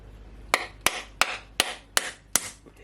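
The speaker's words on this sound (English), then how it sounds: "I have one of these food hammer, and I'm just gonna gently, break it." A food hammer strikes a coconut six times in a steady rhythm, each blow a sharp, close, loud crack with a short ring-out, alone with no talk.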